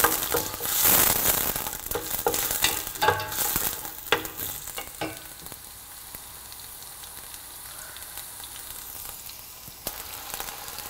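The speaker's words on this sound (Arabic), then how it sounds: "نضيفوا اللحم ونحركوه حتى تقلى اللحم من جميع الجهات" Meat browns with onions in a pot for a Moroccan lamb and prune dish, loud crackling and sizzling with repeated scraping stirs that settle into a quieter fry.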